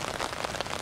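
Heavy rain pouring down steadily during an outdoor disc golf tournament round in Finland, a dense broadband hiss of drops on surfaces with no voices.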